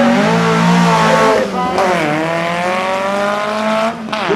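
Race car launching at the start of a drag run: a loud, close engine screaming through rising revs with tire squeal, shifting pitch twice as it pulls away.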